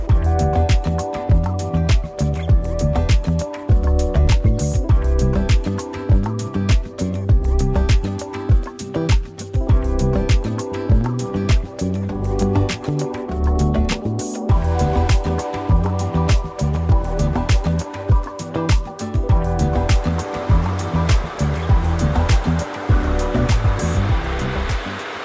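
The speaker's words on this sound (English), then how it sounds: "This is a motorized pump. It's been running for 24 hours." Motorized water pump running nonstop to flush a water system at a beach home garden in Davao, Philippines, giving a loud, steady mechanical drone with rushing, splashing water and no voices throughout.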